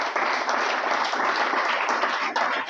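A church congregation bursts into sustained, dense applause and clapping, loud and close, filling the hall evenly for a few seconds with no break.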